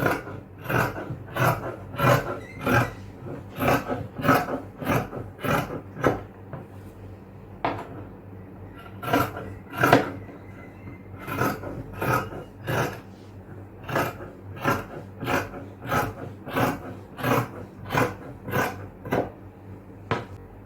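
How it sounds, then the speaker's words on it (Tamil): Cloth for a yoke nighty is cut with scissors, giving a long series of close, crisp snipping and rasping strokes in an uneven rhythm. There is a brief pause midway and no speech. "இதை கட் பண்ணி எடுத்துக்கலாம்."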